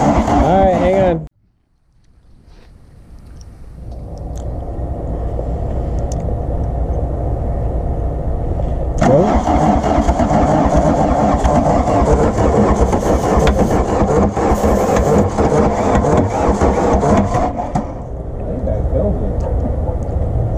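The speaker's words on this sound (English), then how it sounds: "Keep on cranking there, Skippy. It's moving" VW truck engine, sitting unused for 17 years, cranks after a brief pause, then catches and runs roughly at a loud, steady level, with people talking close by over it.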